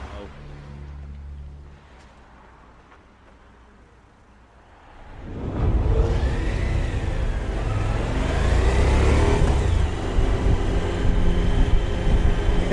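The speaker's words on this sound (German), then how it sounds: "Ziemlicher Verkehr hier." Road traffic rolls past an Alpine viewpoint above Lungerer See, starting quiet and then swelling to a loud, close rush of vehicles that builds and sustains to the end.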